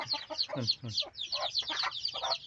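Native Thai chicks peeping and clucking in quick, high-pitched bursts, close by, with a busy, chattering rhythm throughout.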